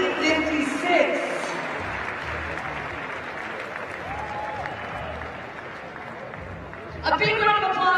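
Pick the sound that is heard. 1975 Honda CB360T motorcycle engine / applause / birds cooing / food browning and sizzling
applause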